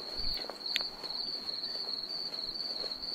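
Crickets chirp at night in the video game The War Z: a steady, thin, continuous trill holds throughout, soft and unbroken, with faint scattered clicks beneath.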